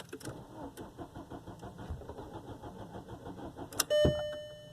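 A Volkswagen engine cranks without firing, a steady close-up rhythmic starter whir that stops with a sudden louder click and clunk.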